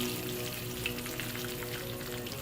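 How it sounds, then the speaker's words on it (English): Chili oil, about two tablespoons, frying over a low flame in a pan, giving a steady soft sizzle with fine crackling throughout, fairly quiet and close, with no talking. "Now let's fry this chili oil."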